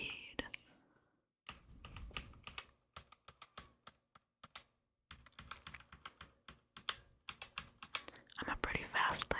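Someone types in quick bursts on a Roccat Vulcan 121 keyboard, the keys clicking crisply and close by with short pauses between runs, while soft whispered speech drifts in and out.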